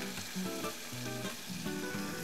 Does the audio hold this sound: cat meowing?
no